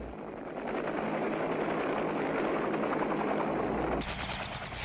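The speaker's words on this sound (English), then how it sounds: "The troop helicopters of the assault force are moving into the objective landing zones." Military troop helicopters of an assault force fly in during an infantry division exercise, a loud continuous rotor chop and engine roar that holds steady, with a sharper rapid beating entering near the end.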